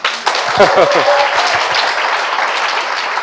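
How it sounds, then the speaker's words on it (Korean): An audience at a health lecture breaks into applause, a fairly loud burst of clapping that settles into a steady patter, with a voice speaking over the start. "여러분 박수 한번 보십시오"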